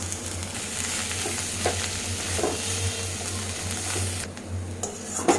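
Leafy greens stir-fry with onion, garlic and ginger in a pan: a close, constant sizzle with occasional utensil scrapes and clinks, ending in a few brief knocks.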